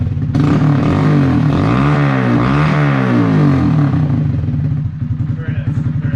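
A Honda Grom motorcycle fitted with a Zoom exhaust idles and revs close by, its loud, throbbing engine note rising and falling before it settles back down.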